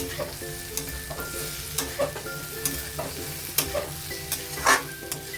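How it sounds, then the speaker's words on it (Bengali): Okra and potato pieces stirred in a pan with spices for aloo bhindi, scraping spatula strokes and soft clinks over a low dry sizzle, close and fairly quiet with no talk. "ভেন্ডি আলুটা দিয়ে দিলাম দিয়ে হালকা হাতে ভালো করে নাড়াচাড়া করতে হবে"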